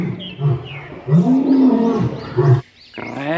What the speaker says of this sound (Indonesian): Wah, di sini ada singa.